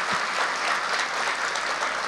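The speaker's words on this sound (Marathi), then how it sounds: "खरंच दादांसाठी एकदा जोरात टाळ्या वाजवू आपण" An audience at a spirituality podcast claps loudly, with dense continuous applause filling the whole moment without a break.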